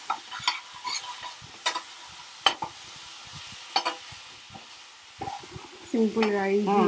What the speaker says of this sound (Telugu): దీన్ని మంచిగా గోలాలి